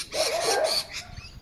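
Several dogs bark at a distance in a quick, irregular volley, with loud outdoor birdsong mixed in and no talking.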